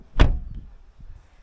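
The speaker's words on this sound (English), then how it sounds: "when you open and when you close the door" A single sharp Dacia Duster 4x4 door thud near the start, followed by a low, faint rumble and scattered soft knocks.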